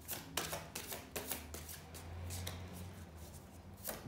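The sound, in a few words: tarot cards being shuffled and drawn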